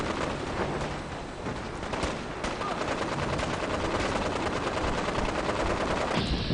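Rapid bursts of gunfire from a firefight in Fallout 4 on PC, dense and continuous with sharp cracks layered over a constant loud rumble, with no talk.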